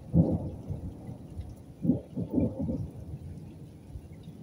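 Thunder from a strong nighttime storm rolls in several low, heavy rumbles, one near the start and a cluster in the middle, fading into quieter grumbling with no voices present.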